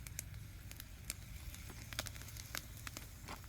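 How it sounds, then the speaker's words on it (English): Branches sitting in the hot coals of a fire give off soft steaming and hissing, broken by scattered sharp crackles and pops, all quiet and close. "I hear some steaming, but we're going to pull these out in a minute."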